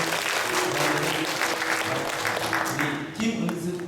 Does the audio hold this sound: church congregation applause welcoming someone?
yes